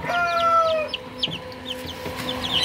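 Newly hatched baby chicks peep on a homestead in rapid, high, repeated cheeps, with a longer drawn call near the start and faint clucking from hens, close and without talk.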